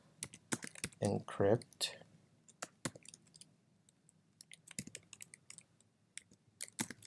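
Computer keyboard keys tapped in short bursts while entering a terminal command, with quick clicks scattered between and over someone speaking.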